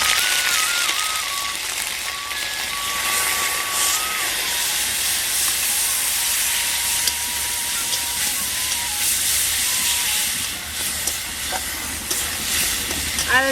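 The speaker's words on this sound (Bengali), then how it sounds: "এরপর দিয়ে দেবো আদা জিরার পেস্ট।" Ginger-cumin paste sizzling in hot oil with cardamom, cloves and cinnamon, cooked for a green cauliflower dish, gives a loud, continuous spitting hiss throughout, with faint intermittent tones in the background.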